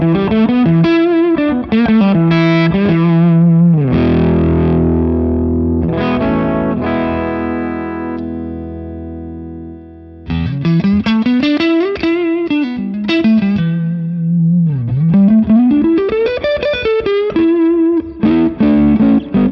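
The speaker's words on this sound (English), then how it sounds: "I'm going to increase this mid boost thing here so you can hear exactly what it's doing on the bridge humbucker." An electric guitar on its bridge humbucker with a mid boost engaged plays loud, distorted melodic lines, with fast runs, a held chord ringing out, then more sliding phrases, all close and up front.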